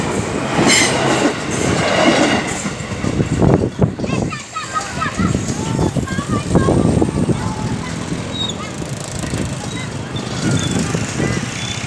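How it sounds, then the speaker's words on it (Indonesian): A coal freight train rumbles past a railway crossing in Indonesia, a loud continuous roar of wheels and wagons with clattering and faint squeals, while people talk nearby throughout. "kereta api angkutan batu bara menyetas langsung"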